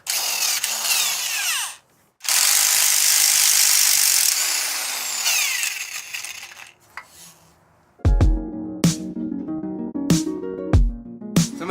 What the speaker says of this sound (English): Luckily I have this electric impact.